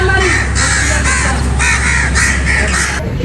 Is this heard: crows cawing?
yes